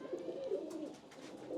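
Pigeons coo in a breeding setup, soft throaty rolling calls close by, with a couple of distinct pulses early on and a steady murmur continuing throughout.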